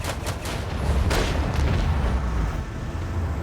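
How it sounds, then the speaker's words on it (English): Starboard cannons firing from a warship in Rogue Trader, a dense run of heavy booms and blasts rolling together loudly and continuously, with one sharper crack standing out midway. "Go up a bit, hit with starboard cannons."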